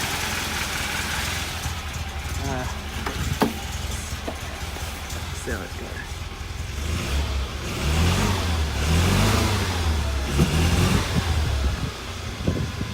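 A Datsun car engine fitted with a newly installed kit, started up and revving, running slightly smoky, with a steady low rumble that swells louder in the second half while someone talks over it.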